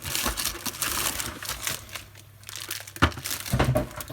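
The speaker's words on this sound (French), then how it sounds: "je vais essayer de déballer tout ça pour mieux voir" Packaging from a diamond painting kit is unwrapped up close, with soft crinkling and crumpling of plastic and paper, quiet rustles and a few sharper handling knocks, with no talking.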